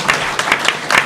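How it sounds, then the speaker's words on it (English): An audience at a congressional roundtable in Manteno, Illinois applauds a congressman, steady dense clapping filling the room at close range with no voices over it. "we can give him a round of applause."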